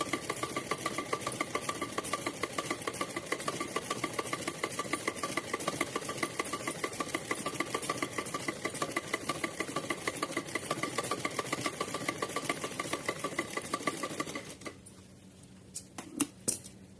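A sewing machine stitching a straight seam on fabric for a decorative doll outfit whirs in a fast, steady rhythmic chatter for about fourteen seconds, then stops, leaving a few soft clicks and handling sounds.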